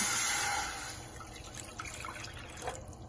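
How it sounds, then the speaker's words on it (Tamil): Water pours steadily into a pan for sugar syrup, a splashing rush that settles into a softer trickle and a few drips. "அதுக்கு 3 கப்பு தண்ணி விடுறேன்."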